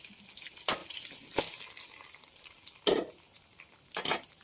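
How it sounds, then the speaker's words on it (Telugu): Chopped onions dropped into well-heated oil for a brinjal and peas curry, with a few loud bursts of stirring and sizzle over a low continuous fry, no talking. "జస్ట్ ఆయిల్లోకి ఇప్పుడే ఆనియన్స్ వేసాం కాబట్టి ఆయిల్ బాగా హీట్ చేసి వేసాం కాబట్టి ఆనియన్స్ ఫాస్ట్గానే రోస్ట్ అయిపోతాయి"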